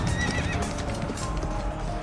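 Deccan breed horses, groomed for rapid movement, neigh and whinny over a busy clatter of hooves, the high calls rising clearly above a dense, close rumble of trotting.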